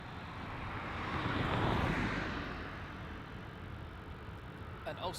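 An airliner at Melbourne Airport, a distant broad jet engine roar swelling to a peak and slowly fading away, heard alone with no talk.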